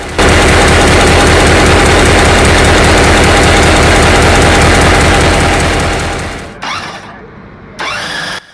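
A 16-cylinder, 3,000 horsepower locomotive diesel engine from 1964 runs loud and close with a rapid hammering beat, then winds down, followed by a couple of short bursts.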